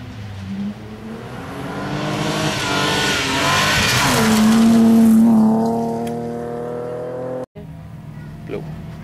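A rally car on the first special stage of Dackefejden 2011 roars in from a distance, its engine building to a loud close pass with tyre noise before fading away, followed by quieter background sounds and faint voices.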